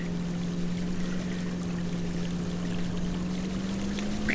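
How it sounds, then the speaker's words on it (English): A waterfall in the Dinkum video game gives a steady, continuous rush of water that stays even in loudness the whole time, with a constant low ambient drone beneath it and no talk. "Alright, under the waterfall,"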